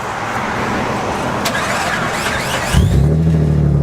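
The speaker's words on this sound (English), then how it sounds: "It's got a really unique sound. That exhaust is obviously a custom exhaust." A Jeep Wrangler converted into an H2 Hummer, fitted with a custom exhaust, cranks over against outdoor background noise. The engine catches near the end and settles into a loud, steady low idle.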